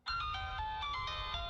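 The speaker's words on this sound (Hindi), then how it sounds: "फोन उठाओ।" An incoming call rings on a telephone, a bright electronic ringtone melody of quick stepped tones starting abruptly and sounding clearly and close over a low background rumble.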